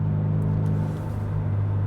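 Subaru car engine holding around 3,000 rpm, a steady low droning hum heard from inside the cabin, loud and unbroken with no talking.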